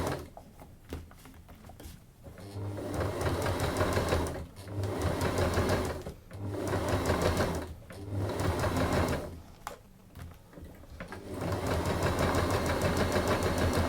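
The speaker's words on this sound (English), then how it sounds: "it is easier to sew a curve in short bursts" A sewing machine stitches a curved seam on a simple Japanese bag in short bursts. Each loud, rapid mechanical whir runs a second or two and then pauses briefly, heard up close.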